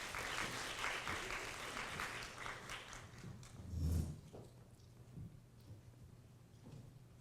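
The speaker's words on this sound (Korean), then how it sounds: "박수로 맞이해 주시기 바랍니다" An audience at a university startup forum lecture claps to welcome a speaker, a sustained patter of applause that swells briefly near the middle, then thins out.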